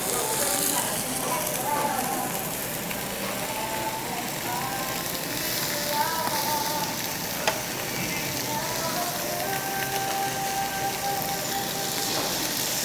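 Korean barbecue meat sizzles steadily on a grill at an unlimited buffet, a continuous bright crackle and hiss with occasional pops, while faint voices talk in the background.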